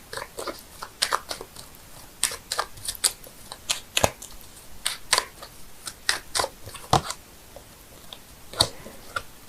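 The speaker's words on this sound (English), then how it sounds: "I'm shuffling the cards here" Tarot cards are shuffled close up with irregular crisp snaps and riffles, in quick clusters separated by short pauses, and no voices.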